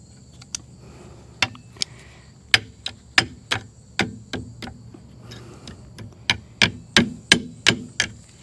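Sharp metallic hammer strikes on a 1952 Farmall Cub mower deck, sparse at first then a steady run of blows, close and ringing, over a low engine-like hum.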